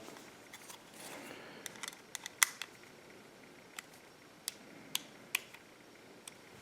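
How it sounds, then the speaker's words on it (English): Screws being snugged down on a PlayStation 4 hard drive caddy, heard as faint, sparse clicks and small ticks scattered over a quiet background, with no talk. "I'm just going to tighten these up. I'm just going to snug them all down"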